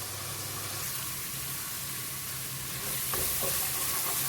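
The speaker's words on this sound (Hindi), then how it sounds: "दूसरी तरफ मैं ये प्याज ब्राउन करूँगी जो गार्निश के लिए रखे हैं।" Onions browning in hot oil for garnish in a chicken haleem dish, giving a continuous close sizzle that swells a little louder near the end, with faint scraping.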